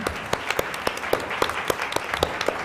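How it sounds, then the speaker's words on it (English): Applause from the audience at a board meeting, a modest room of people clapping steadily for a few seconds with distinct individual claps audible, fairly close and moderate in level. "Would you all join me in giving one more round of applause for them?"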